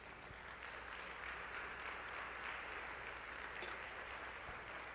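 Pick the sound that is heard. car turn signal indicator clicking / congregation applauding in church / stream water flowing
congregation applauding in church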